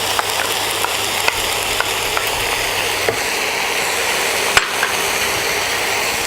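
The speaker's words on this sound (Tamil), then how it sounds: "கிளறி விட்டுக்கோங்க." Red chilli sauce topping sizzles steadily in a frying pan while being stirred, with faint spoon scrapes and light taps against the pan recurring throughout, no voices.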